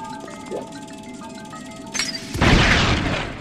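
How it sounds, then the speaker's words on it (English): In the video game Zelda: Skyward Sword, a bomb drops onto crates: a few tinkling game chimes and a short fuse-like whoosh, then a loud, booming explosion with crashing debris that rumbles out over a second, no voices. "listen to the sound effect when this bomb drops on those 4 crates over there"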